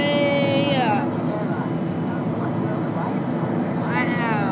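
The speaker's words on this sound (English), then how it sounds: "On the plane with Pinkie" Steady, loud airliner cabin drone during a flight to Virginia, a broad continuous engine and air roar with voices talking over it.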